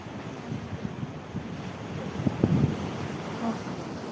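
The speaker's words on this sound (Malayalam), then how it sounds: "കടൽ കടലിൽ തിരയടിക്കുന്നു" Steady roar of sea surf with wind buffeting the microphone, waves rolling in continuously at moderate loudness.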